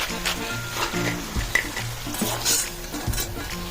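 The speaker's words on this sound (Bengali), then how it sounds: "দেখুন আমি আরেক খোলা ভেজে নিলাম" Batch of nimki snacks frying in hot oil with a continuous crackling sizzle, punctuated by metal utensil clanks and stirring scrapes against the pan, heard up close.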